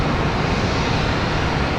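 Jetstar Airbus A321neo jet taking off from Brisbane Airport, a continuous broadband engine roar that stays steady and loud throughout, with no other sounds.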